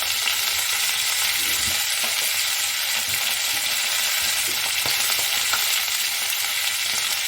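Drumstick and pea curry fries hard in a pan, a dense, constant sizzle with occasional scraping stirs, close and fairly loud without talk.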